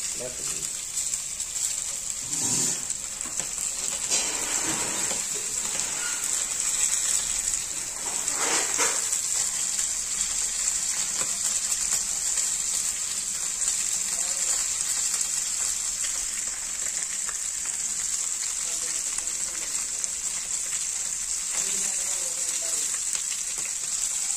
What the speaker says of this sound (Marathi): आता तव्यावर मस्त करून घेऊया। मध्ये आपण तेल टाकून घेतले, आता एक एक एक एक मच्छी ठेवायला।